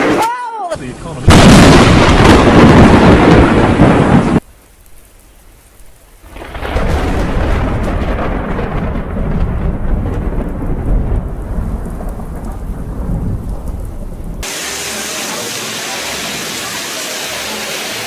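Thunderstorm with loud cracking, rumbling thunderclaps close by and steady heavy rain throughout, the rain continuing alone and hissing after the thunder fades.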